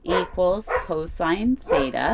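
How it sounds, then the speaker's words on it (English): Dogs bark and yip in the room during a calculus lesson, their repeated barks overlapping a person speaking close by. "Sorry about my dogs."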